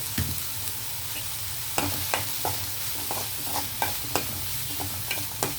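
A cabbage-roll filling fries in a pan as chilli powder goes in, a low continuous sizzle punctuated by frequent crisp spatula taps and scrapes at an irregular rhythm, close and clear.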